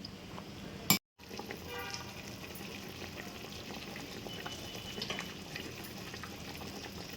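Rice at a rolling boil in a pot of water, half-cooking for chicken dum biryani, gives a continuous bubbling hiss close up, broken by a brief sharp knock and a split-second dropout near the start.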